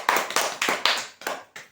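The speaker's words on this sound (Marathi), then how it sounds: "एकदा जोरदार टाळ्या वाजवा" A handful of people clap at a prize draw to cheer a dining table winner, with about seven sharp, close claps in an uneven rhythm and no talk.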